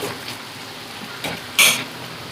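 Ingredients for chicken pachadi, with ginger-garlic paste among them, fry in a pan. A steady faint sizzle runs throughout, broken by a couple of brief scraping stirs and one sharper louder hiss near the end, with no voices.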